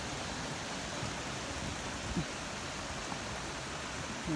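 A small stream flowing down from a park pond in Adelaide, with a steady, even rushing hiss, close by and unbroken throughout.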